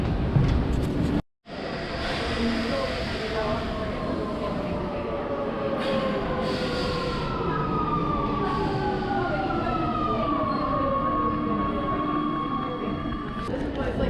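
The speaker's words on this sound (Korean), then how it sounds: "설레는 로마의 첫 지하철 탑승기" Steady roar of a Rome metro train in motion, with rising and falling electric motor whines and rumbling wheels throughout, briefly cut off near the start.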